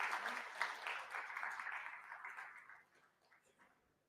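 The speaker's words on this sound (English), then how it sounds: "A big round of applause for Dr. Parul Bhatt, please." Faint, brief clapping from an audience at a health conference in a hotel hall, starting moderately and tapering off to a few scattered claps.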